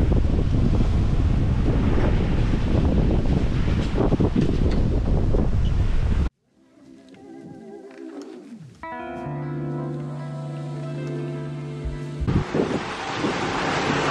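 Strong wind roars across the microphone with surf and waves breaking around a sailboat at sea in the Caribbean, about 20 to 23 knots of wind; loud and continuous, briefly cutting out midway to quieter tonal hum before the gusts return.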